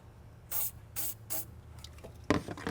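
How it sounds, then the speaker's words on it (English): Three short, sharp hissing bursts of silicone aerosol spray into an intake hose in quick succession, followed by a softer rustle and a final spray-like hiss. "little silicone spray, run some in the hose"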